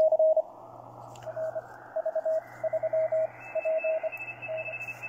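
Malahit clone SDR receiver output as the filter width is changed, a tone sounding in short on-off bursts like Morse code over hiss and a low hum, with its pitch and the noise band shifting upward.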